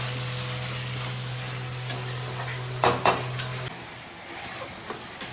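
Banana flower with chickpeas is stir-fried with spices in a pan: a soft background sizzle with scraping stirs and a few clanks of a utensil against the pot near the middle.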